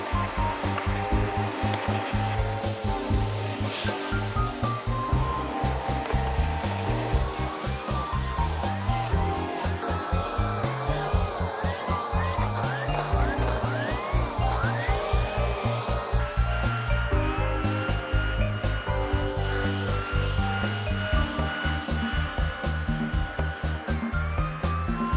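A vacuum cleaner working over a couch runs steadily and loudly throughout, with a continuous motor drone and rubbing, shifting tones as the nozzle moves across the upholstery.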